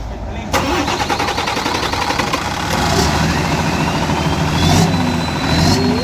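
A Hino V8 truck engine cranks and catches after a brief quiet moment, then settles into a loud, deep, steady roar with a slight swell in revs, very close to the listener, with voices faintly underneath.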